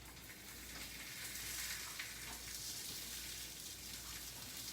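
Food frying in a hot pan for a Lebanese dinner: steady, close sizzling hiss that stays even throughout, with no talking.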